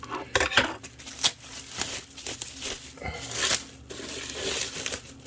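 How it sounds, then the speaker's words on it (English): Tape is peeled and torn off a delivered parcel, a series of close crinkling rips and crackles with rustling cardboard and small knocks, fairly quiet and irregular. "let's see if I can get the tape off this"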